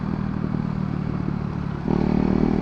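A KTM Duke 390 motorcycle with a catalytic converter hums steadily while riding, a smooth, refined mid-pitched drone that steps up in pitch and loudness near the end as it accelerates.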